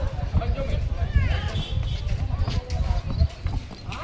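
Horse hooves clip-clopping at close range during a ride, a quick, uneven trotting patter under people talking nearby.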